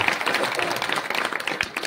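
An audience at a Marathi devotional kirtan claps on cue, a quick burst of scattered hand claps from a crowd, moderately loud and continuous for a couple of seconds.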